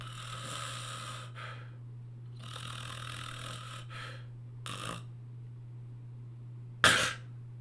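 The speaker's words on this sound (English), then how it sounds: "when you're asleep and when you're snoring" Snoring during sleep comes as several long, rasping breaths in a steady rhythm, followed by a short snort and then a sharp, loud snort or gasp near the end, all over a constant low hum.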